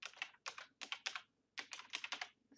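Quick bursts of typing on a computer keyboard while entering report dates, the keystrokes coming in clustered runs with short pauses between, close and fairly quiet with no voice.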